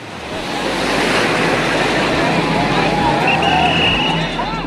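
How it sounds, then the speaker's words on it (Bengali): Big ocean waves crash and roll onto the beach at Cox's Bazar, a loud, continuous roar of surf with wind buffeting the microphone throughout. "দেখুন কি পরিমাণ ঢেউ"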